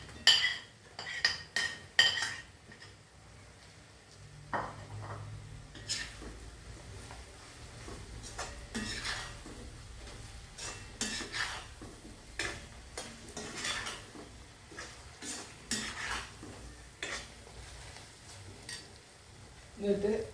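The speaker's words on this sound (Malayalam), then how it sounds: "ഇനി നമുക്ക് ഈ മീൻ വറുത്തത് ഇതിലോട്ടിടാം." Fried fish is tipped into a pan of sizzling bird's eye chillies and stirred, with scraping utensil and pan clinks through a steady soft sizzle, loudest in the first seconds.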